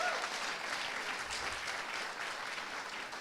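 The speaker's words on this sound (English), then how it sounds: "Give her a round of applause." Steady crowd applause at a business networking event in Bentonville, many hands clapping evenly at moderate volume, sustained throughout with no talk over it.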